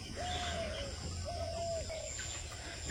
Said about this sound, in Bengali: গুগু পাখি ডাকতেছে গাছে